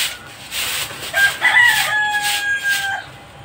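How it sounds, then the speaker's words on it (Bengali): Birds calling outside a house in the morning, including a cuckoo, with a clear drawn-out whistling call lasting about two seconds over a quiet outdoor background. "যেমন পাখির আওয়াজ শুনতে পাচ্ছে, কোকিলের আওয়াজ হচ্ছে"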